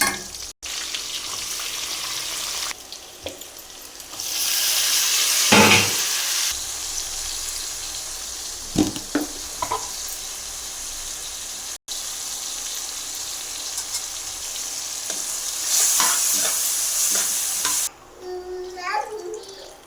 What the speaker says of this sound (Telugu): ఎండి చేపలు నెత్తళ్ళు అంటారు కదా అవి, ఇవి వేగిన తర్వాత బాగా వేగేయండి.